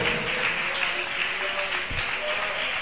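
A church congregation claps in praise, a dense and steady wash of applause close by with voices mixed in.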